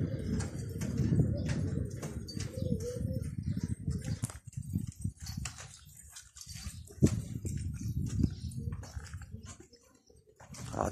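Pigeons coo softly close by in a loft, low throaty coos repeating irregularly among rustling, pecking and shuffling sounds, with a brief pause of quieter activity midway.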